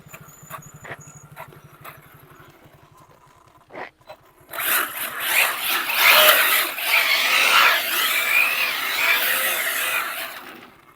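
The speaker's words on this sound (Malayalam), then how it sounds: "ഇനി നമുക്ക് ജസ്റ്റ് ഒന്ന് ഡ്രിഫ്റ്റ് അടിച്ച് നോക്കാം" An Arrma Felony 6S RC car drifts, starting with a quiet buzzing motor before a loud burst of tire scraping and squealing that carries on for several seconds.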